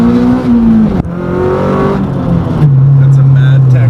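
A tuned Honda VTEC engine with a new exhaust screams loudly and steadily at around 9,000 RPM, its pitch holding high with a brief dip before climbing again.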